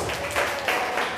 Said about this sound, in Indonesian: Tepuk tangan buat Mas Adam.